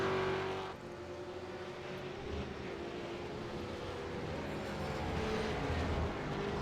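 Race cars, including a RUF S3R6 supercar, speed past at Watkins Glen, their engines a sustained loud roar that swells and shifts pitch as they go by.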